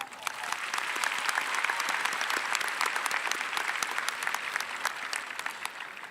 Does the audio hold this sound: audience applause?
yes